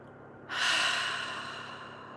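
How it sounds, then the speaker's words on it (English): A single cleansing breath, drawn in through the nose and let out through the mouth, ends in a soft, close, airy exhale that swells quickly and then slowly fades in a quiet room. "Inhale through the nose. Exhale through the mouth."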